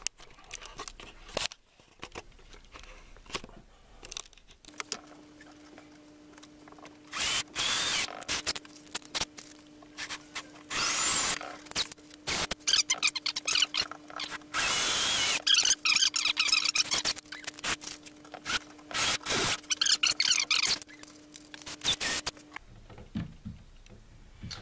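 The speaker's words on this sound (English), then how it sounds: "I'll make one hole like catty corner and screw that in so it keeps it straight and square" Power drill driving screws into wood while assembling an ego box, several whirring bursts of the motor with ratcheting clicks and pauses between, loud and close throughout.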